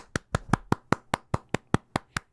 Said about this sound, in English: I got to give a round of applause to my assistants today.